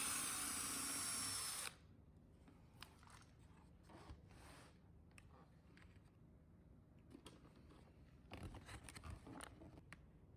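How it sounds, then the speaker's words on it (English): A drill bores a hole from the back side of a door panel on a 2008-2014 Mercedes W204 C-Class while an ambient light kit is being fitted. A loud, close whirring burst lasts under two seconds, followed by quieter scattered clicks and handling noises. "he's going to grab a drill bit to roughly the same size and drill a hole from the back side of the door panel"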